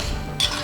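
A spoon stirs a soft cheese mixture of cottage cheese and milk, giving a brief muffled scrape followed by a light clink against the bowl.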